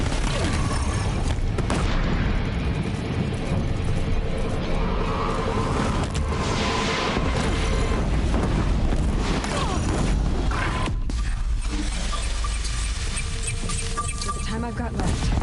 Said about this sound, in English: Full artillery right now.